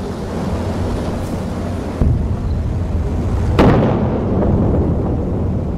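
Blast from an Iranian missile strike on Israel, heard as a sharp burst over constant wind-buffeted rumble, followed by a louder second crack and a rolling, distant-sounding roar.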